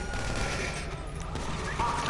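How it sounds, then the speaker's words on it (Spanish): Rapid gunfire from the video game GTA, a dense burst of shots crackling steadily across the whole moment, loud and close with no talk over it. "Que le pego tiros."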